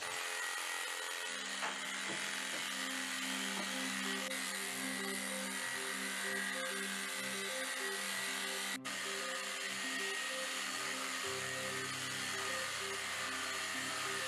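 Electric clippers buzz steadily while trimming long, excess hair on a Hereford show heifer, a continuous close motor drone that shifts pitch slightly as the blades move through the coat.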